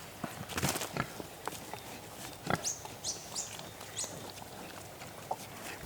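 Free-range homestead pigs feed from a bucket with soft snuffling, scattered knocks and clatters and occasional grunts close by. Faint birdsong chirps sound in the background.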